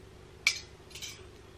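A cutlery set handled briefly, giving two light metallic clinks about half a second apart over faint background hum.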